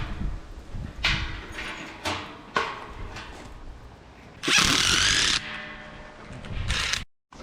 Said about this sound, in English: All right, so now I'm gonna drill the hole for them to actually get the bait out.